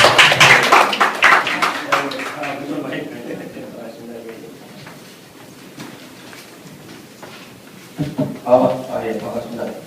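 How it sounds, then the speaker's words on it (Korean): A short burst of audience clapping greets a business professor from Dong-A University at the opening of a marketing lecture. The clapping is fairly loud for about two seconds, then fades into murmuring voices and talk. "박수 해주시고, 박수 받아주시죠."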